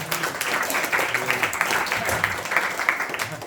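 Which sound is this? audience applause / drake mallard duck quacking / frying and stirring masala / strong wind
audience applause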